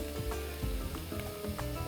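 Ground meat sizzles in a hot pan as the base for a shepherd's pie, a dense continuous crackle broken by a few soft stirring knocks and scrapes, close and fairly quiet.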